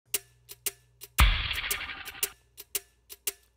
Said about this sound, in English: Let me play that for you without the reverb on there.